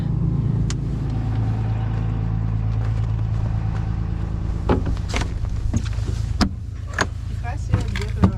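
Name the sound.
car engine running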